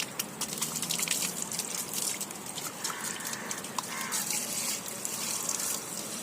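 Very cold municipal tap water runs steadily for hair washing, a soft continuous splash and trickle with scattered drips, no voices.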